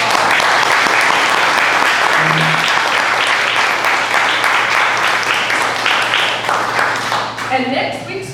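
Sustained audience applause for candidates at a local political forum, dense and steady for several seconds before tapering near the end as a voice begins to speak.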